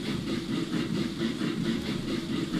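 The single-chimney Lancashire Witch steam locomotive runs in Transport Fever 2, giving off a steady, rhythmic chuffing and mechanical rumble that sounds close and continuous.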